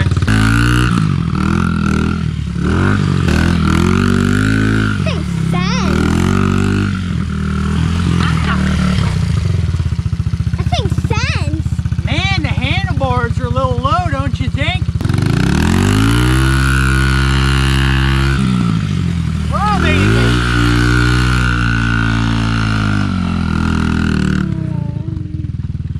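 A Honda XR50 dirt bike fitted with an 88cc big bore kit revs loudly and close by, its engine note repeatedly climbing and falling through sustained throttle sweeps.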